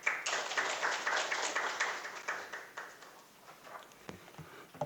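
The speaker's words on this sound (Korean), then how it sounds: "여러분 큰 박수 부탁드리겠습니다." Audience at a Korean National Assembly food-tech seminar claps to welcome a presenter, a steady burst of applause from a seated crowd that thins and fades toward the end, with a sharp tap near the close.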